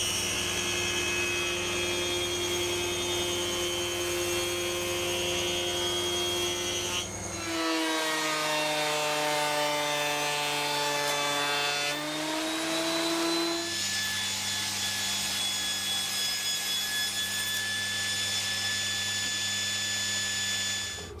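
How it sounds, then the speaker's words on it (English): A wood plank is cut and the pieces are fed through a planer, a loud continuous machine whine with steady tones that drop in pitch under load in the middle as the board passes through, then recover. "So I'm going to cut two pieces off of this plank and then I'm going to run them through the planer"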